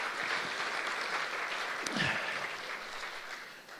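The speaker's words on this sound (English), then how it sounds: "we should give those people a round of applause" Church conference audience giving a round of applause: a steady wash of clapping that is fairly quiet and distant, fading slightly toward the end, with no talking.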